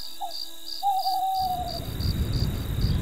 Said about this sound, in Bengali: তখন শেষ রাত্রির পাখিগুলো সবে ডাকতে শুরু করেছে।